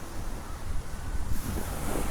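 Waves wash ashore on a seashore near a pier, mixed with strong gusting wind buffeting the microphone, a continuous close rumble with no voices.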